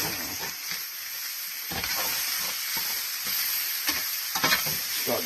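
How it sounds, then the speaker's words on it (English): Cajun sausage and chicken frying in a pan, a steady close hiss of sizzling with intermittent scraping stirs and a few sharper clinks near the end, no voices. "I guess just going to kind of stir it around."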